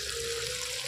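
Water rinsed from a sour yogurt bowl is poured into a simmering prawn and pointed gourd curry, a brief, steady splashing pour heard up close with no talking.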